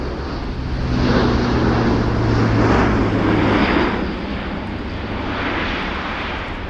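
An Airbus A400M military transport aircraft landing at RIAT 2025, with its undercarriage down. Its engines give a loud, continuous roar that swells and eases slightly throughout.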